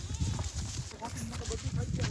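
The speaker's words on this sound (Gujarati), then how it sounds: "બકરા પાછા આમાં નીકળે છે." Goats in a farm field bleat in short, uneven calls at close range, mixed with people talking nearby.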